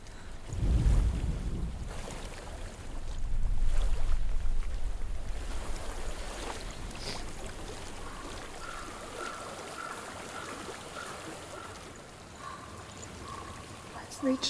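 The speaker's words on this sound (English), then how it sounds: "Water. I hear water." Flowing water in the video game Hellblade: Senua's Sacrifice, a steady stream-like rush heard at moderate distance and continuing throughout, with low rumbling gusts early on and a voice speaking over it.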